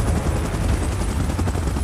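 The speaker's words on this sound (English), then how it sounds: "Chopper in position." Helicopter rotor thrum in PUBG Mobile, a loud, steady churning drone filling the whole moment with no talk over it.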